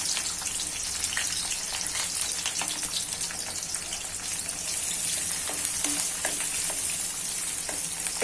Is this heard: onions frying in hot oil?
yes